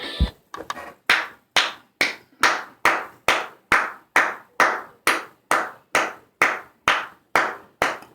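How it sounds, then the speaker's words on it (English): Steady hand clapping, about two claps per second, sharp and close, continuing evenly with no voices. "I gotta clap it up, bro."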